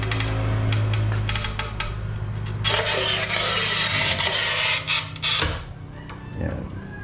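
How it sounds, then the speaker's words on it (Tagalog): A tile cutter scores and snaps a tile at a house-finishing construction site, giving rough rasping and scraping bursts that rise midway through and then fall off, over a steady low background hum. "So ito yung kagandahan ng tile cutter, tingnan nyo."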